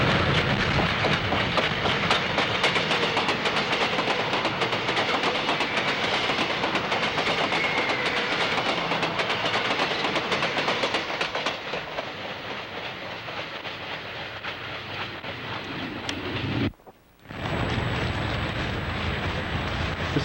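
A freight train rolls along the tracks in a loud, continuous rumble with faint rhythmic clatter and wind buffeting, close by. The roar eases slightly partway through and cuts out briefly near the end.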